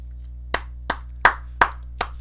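Five sharp hand claps ring out alone at a steady, unhurried pace, each crisp and fairly close, with a faint steady hum underneath.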